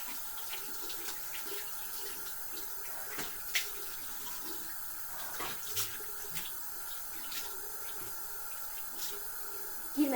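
Tap water runs steadily from a faucet while someone rinses an eye, a constant close splashing hiss broken by a few sharper splashes and clatters, with no talking.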